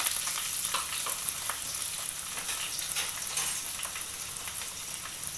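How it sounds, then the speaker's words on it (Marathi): Onion and tomato frying with curry leaves in a pan for cluster bean dry curry, stirred as they cook, give off a dense, steady, close sizzle that carries through without pause and with no voices. "चांगलं हे मिक्स करून घ्यायचं कांदा टॅमॅटो पैकी असा ब्राऊन होईपर्यंत त्याला ढवळायचा आहे"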